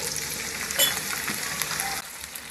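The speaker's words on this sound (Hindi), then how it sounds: "अब कढ़ाई में हमने ऑयल डालकर इसको गर्म कर लिया है। अब इसमें प्याज डाल लेंगे" Finely chopped onions fry in hot oil in a kadai, giving an even close hiss with a brief louder clink near the start and a sudden drop in intensity toward the end.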